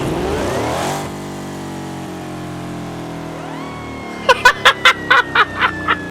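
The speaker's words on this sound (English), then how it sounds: "And then there's the supercharger and the engine which make its own noise." Supercharged custom car engine in a video game: a loud harmonic engine drone that drops and settles into a steady idle, followed by a rapid run of sharp, evenly spaced revving or whining bursts near the end.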